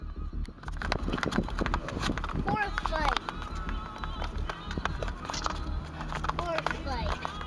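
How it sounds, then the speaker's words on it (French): Two horses fighting, scuffling with heavy hoof thuds and shrill squeals and whinnies, loud and close, with voices talking throughout. "Deux chevaux qui se bagarrent donnent un beau spectacle."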